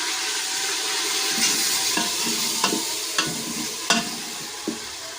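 Tomatoes and green chillies sizzle in a pan over browned garlic, with a steady frying hiss broken by several sharp stirring scrapes and clinks, close and moderately loud.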